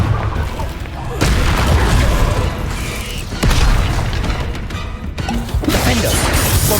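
Confringo blasting spells exploding in the video game Hogwarts Legacy, several loud booming blasts with crashing debris in quick succession, heavy and close, with a voice shouting spell names among them.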